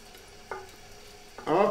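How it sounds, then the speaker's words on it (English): Garlic frying in warm oil in a pan: quiet at first with a soft tap, then a loud, crackling sizzle bursts in near the end as the garlic starts to jump. "fry the garlic a little bit."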